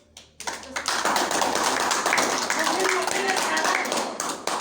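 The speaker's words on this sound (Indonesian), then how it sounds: "Bagi aplaus." Applause from a classroom of students, a dense burst of clapping that starts abruptly and holds steady and loud for several seconds before tapering slightly.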